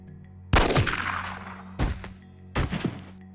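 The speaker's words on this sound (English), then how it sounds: "Favored by most military officers, this Austrian semi-automatic pistol is considered the de facto standard sidearm worldwide." An Austrian semi-automatic pistol fires three sharp shots in Jagged Alliance 2, each a loud close crack that decays quickly, spaced about a second apart.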